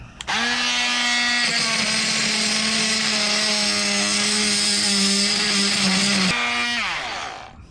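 A power tool cuts through a buggered carriage bolt on a wooden Tahiti gaff cutter under re-planking, with a loud, steady whine held for about six seconds before winding down.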